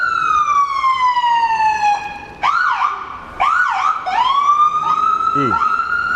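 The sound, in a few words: ambulance siren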